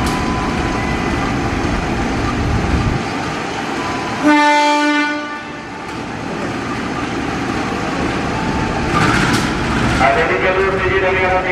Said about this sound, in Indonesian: Jalur 4 ada lokomotif dinas nih teman-teman, arah Pasar Senen.